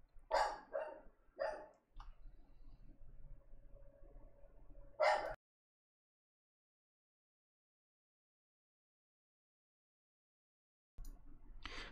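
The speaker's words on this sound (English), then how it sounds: "there goes the dog." A dog barks in a quick run of sharp barks nearby, then goes quiet for a stretch before more noise returns indoors; no talking over it.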